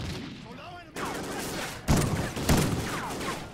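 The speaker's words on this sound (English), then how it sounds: "Oh, it's a shotgun." A shotgun fires in the first-person shooter Call of Duty: Ghosts, with two sharp, booming blasts about half a second apart over a steady background of game ambience.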